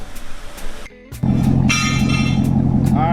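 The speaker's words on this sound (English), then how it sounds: "go ahead and fire this thing up so you guys can hear what it sounds like stock" A C7 Corvette Stingray with stock exhaust starts up after a short pause and settles into a loud, steady engine rumble close by, with a brief earlier stretch of background noise and talk.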